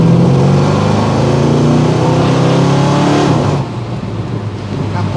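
A Ford 302 engine fitted with a Pertronix ignition revs hard and close, with a loud, steady, gravelly roar that eases off and drops in level about two-thirds of the way through.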